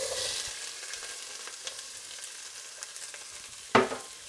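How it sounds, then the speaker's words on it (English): Onion cooking in a pan for a lentil and bulgur chili, a faint steady sizzle that fades slightly, with a few light stirring taps and one sharper knock near the end. "So we're just gonna let the onion caramelize a little bit."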